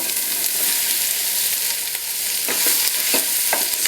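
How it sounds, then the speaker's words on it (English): Corn kernels sauté in oil for a sweet corn soup, a loud steady hiss broken by a few sharp stirring scrapes in the second half, close by and with no voices. "saute the corn for 2 to 3 minutes until they are translucent"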